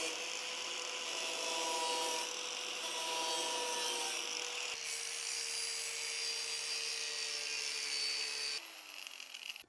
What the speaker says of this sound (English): Well, my grinder's falling apart.